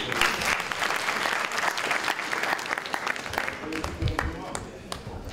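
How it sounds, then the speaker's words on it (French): A forum audience in Bamako breaks into sustained, dense applause that fills the hall, with some voices mixed in under the clapping. "Je vous demande de l'applaudir."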